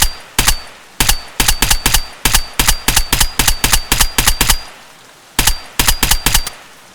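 Assault rifle shots fired downhill from a hilltop in the video game Escape From Tarkov crack in loud, close, evenly paced single shots and quick strings, with a short gap before the firing resumes.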